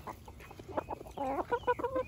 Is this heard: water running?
no